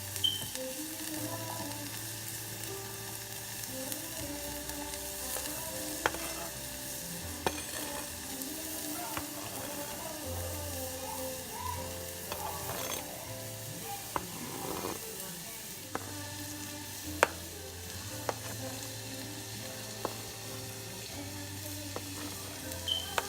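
Garlic, onions and peppers sizzle in a frying pan as the base of a green chili sauce for huevos rancheros, a steady low hiss with scattered clicks and scrapes of stirring throughout.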